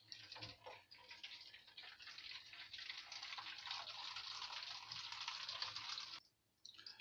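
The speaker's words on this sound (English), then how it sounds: "You can hold the part with your hand so that the water can be filled." Tap water pours steadily into a used plastic bottle for several seconds, a close, rushing gush that cuts off abruptly near the end, with no talking.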